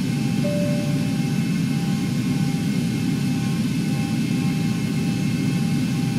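Airliner jet engines on takeoff in the X-Plane 11 flight simulator, a steady loud broadband roar with a low rumble and faint whining tones, unchanging throughout.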